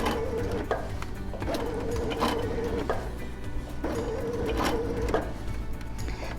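A Baby Lock Sashiko sewing machine stitching with specialty thread, a steady mechanical whirr broken into repeated short runs with brief pauses between them, close and moderately loud.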